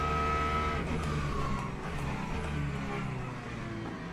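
A race car in a racing video game circles Paul Ricard in the rain, its engine droning loud and continuous with shifting pitch and faint tyre noise as it accelerates out of a corner.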